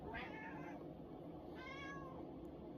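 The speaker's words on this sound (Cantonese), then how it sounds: "我介紹我隻貓 Pico 俾你睇啊" A pet cat named Pico meows twice, two short, clear, close calls separated by a pause, over a quiet background.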